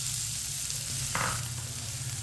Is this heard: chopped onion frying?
yes